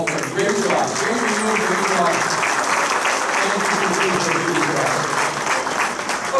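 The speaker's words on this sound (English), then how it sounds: "we give a nice, warm round of applause to the staff, management, and the servers here at Memorial Hall" A hall of fame banquet crowd at Memorial Hall in Jim Thorpe claps in warm, steady applause that holds without a break, with scattered voices mixed into the clapping.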